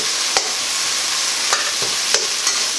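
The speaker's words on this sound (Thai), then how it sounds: "ตามด้วยหมูนะคะเอาหมูลงไปผัดเลย" Pork stir-frying in a hot pan for a Thai basil dish, a steady sizzle broken by a few sharp scrapes of the spatula, close and loud with no talking.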